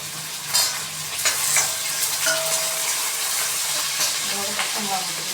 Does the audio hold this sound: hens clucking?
no